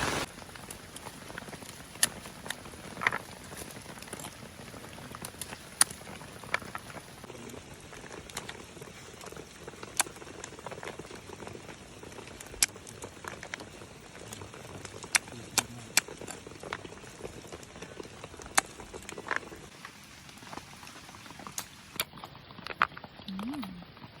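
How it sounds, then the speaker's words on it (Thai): Rain falls steadily outdoors at a reservoir dam in southern Thailand, a faint, fine patter and hiss with scattered sharper drip ticks, heard quietly and evenly throughout at a moderate distance. "ฝนนะคะเจอฝน"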